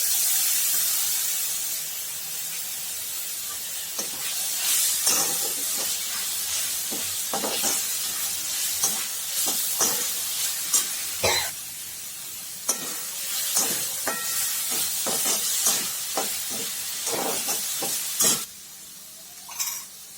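Onion, green chili and garlic frying in a pan, a constant bright sizzle punctuated by repeated scraping stirs of a spatula, loud and close with no talking.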